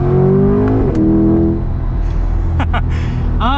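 A Chevrolet C8 Corvette Convertible engine revs hard toward redline, its loud, close roar climbing in pitch, dipping briefly, then rising again as the rpm build.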